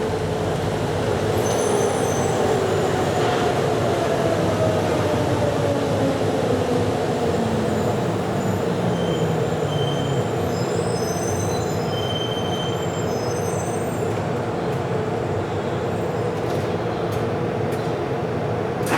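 A Miami Metromover train on the Inner Loop pulls into Miami Avenue Station, its wheels squealing on the rails over a steady rolling rumble that stays loud and close throughout.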